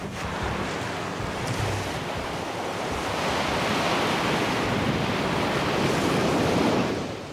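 Heavy typhoon surf crashes and churns under gusting wind in Taiwan, a loud, continuous roar that swells toward the end as storm surge waves build.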